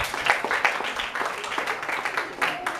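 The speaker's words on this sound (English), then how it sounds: "A round of applause to our second speaker, Miguel Froilan Sabio." Applause from a modest crowd at a debate, uneven and fairly close, with scattered individual claps and a faint voice underneath.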